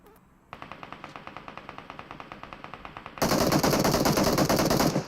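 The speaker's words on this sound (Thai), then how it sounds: "ยิงเลย" Close, loud gunfire in PUBG Mobile: a steady rapid string of automatic shots that suddenly swells into a dense, louder burst of continuous fire for the final two seconds, with no voices over it.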